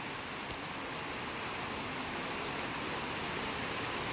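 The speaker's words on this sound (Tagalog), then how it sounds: "parang binubuhos ang ulan ay" Heavy rain pours steadily onto a flooded road in a Philippine province, forming a dense, even hiss with no breaks or talk.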